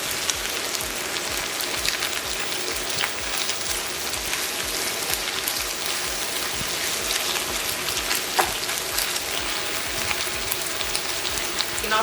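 Zucchini, mushrooms and chicken sear in an overcrowded pan, giving a steady, dense sizzle and crackle that holds at an even level throughout with no talking.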